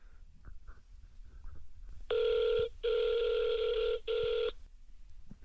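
A telephone rings electronically in three bright, tonal bursts of unequal length close together, loud over a quiet low background rumble.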